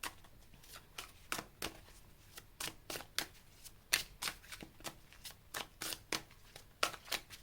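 Tarot cards are shuffled and drawn close by, making quiet bursts of riffling and flicking that repeat in a quick, uneven rhythm. No voices.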